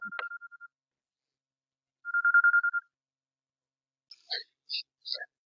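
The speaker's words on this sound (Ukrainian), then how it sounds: "хтось дзвонить на той телефон" A phone rings with two short bursts of a trilling electronic tone separated by silence, followed by a few faint, brief chirping sounds.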